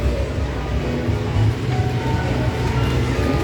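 A model train runs through a miniature-world exhibit in a Rotterdam museum, giving a steady, continuous low rumble and rolling hum that sits close and fairly loud over busy room ambience.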